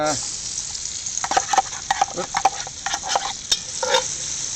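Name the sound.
onions frying in a Dutch oven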